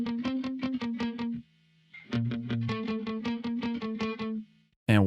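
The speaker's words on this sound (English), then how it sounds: "So this is the dry guitar." A dry electric guitar with no effects plays a choppy riff of short, rhythmic plucked notes and chords, close and clean, with a brief pause partway through and a string squeak at the end.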